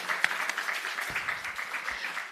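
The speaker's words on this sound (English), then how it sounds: "you deserve a round of applause for that" An audience at an awards ceremony for data protection officers gives a round of applause, a steady, moderately distant patter of many hands clapping together without pause.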